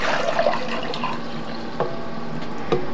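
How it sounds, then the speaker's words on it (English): Sunflower seed dye liquid being poured from a bowl back into a dye pot, a close, continuous splashing and trickling stream with a few louder gurgles. "now I'm going to pour the dye liquid back into the pot"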